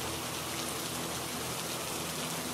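Heavy rainfall fills the whole clip as a steady, dense hiss of drops on surfaces, loud and even throughout, with no voices.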